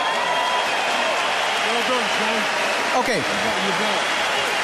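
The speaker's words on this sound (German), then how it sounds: "Wir warten den Applaus natürlich nur ab." Crowd applause in a boxing arena after a heavyweight world title fight, a steady wash of clapping and crowd noise behind someone speaking closely over it.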